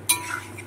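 A spoon stirs a thick, dry mash of potato and pumpkin in a pan, giving one sharp scrape near the start and then a soft, low shuffling under steady background noise, with no voices.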